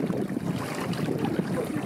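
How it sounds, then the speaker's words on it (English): Water rushes and swishes past the hull of a loaded Xquisite X5 sailboat moving slowly under sail in light wind, a soft, steady wash with faint wind noise and no talking. "You can hear the water."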